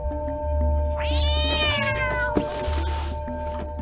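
A cat meows in the video game Stray: one drawn-out, rising-then-falling meow over a steady low ambient hum with tonal background drones, followed by a small soft click.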